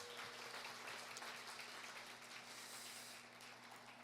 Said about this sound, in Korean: 저희 환영의 박수 한번 칠까요?